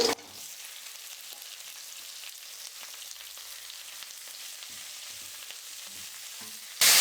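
Chopped onions and curry leaves fry in hot oil with a continuous, even sizzle up close, small crackles and occasional stirring taps throughout, with a louder burst at the very start and end and no voices.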